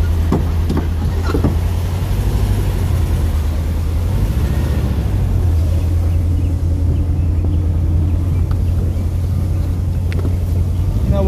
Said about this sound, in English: I'm going to go ahead and back the car out real quickly